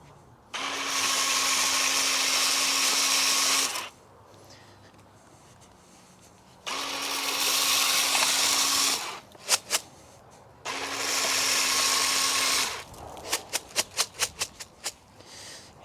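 A Ryobi 18V battery seed and fertiliser spreader on a lawn whirs steadily in three bursts of about three seconds each, with a few sharp ticks and clicks in the pauses between runs.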